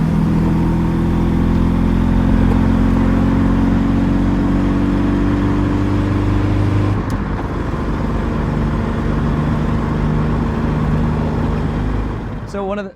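A 1965 Volvo 1800 S engine runs loud and close with a steady, rich drone, then its pitch and tone shift partway through as the revs change.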